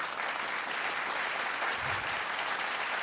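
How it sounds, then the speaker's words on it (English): Audience applause at a chat with the team of the film CTRL, a short burst of dense, even clapping heard alone at moderate loudness. "please give a huge round of applause to Ananya Pandey and Vikramaditya Motwani"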